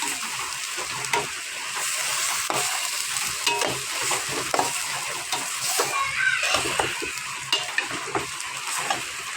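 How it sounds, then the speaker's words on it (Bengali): Rice is stir-fried with spice paste in a pan for bhuna khichuri: a continuous sizzle of frying, broken by repeated scraping stirs and light utensil clinks, close up and without speech. "এভাবে একটু চালটা ভাজা ভাজা করে দিব।"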